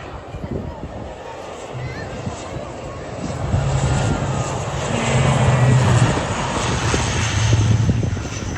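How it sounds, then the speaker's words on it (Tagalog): An airplane taking off roars steadily in the distance, its engine rumble swelling gradually louder, while people talk and exclaim over it close by. "may pa-take off na aeroplano"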